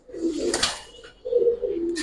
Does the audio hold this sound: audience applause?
no